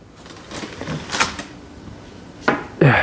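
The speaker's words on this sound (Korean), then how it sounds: "이렇게 창문을 열면은" A sliding window opening onto a first-floor veranda at a seaside pool villa in Geoje makes a few brief rattling, scraping clicks and a final louder sliding clatter, heard close with no talk.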